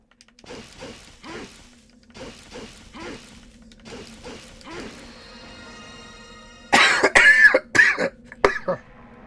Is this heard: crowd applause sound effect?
no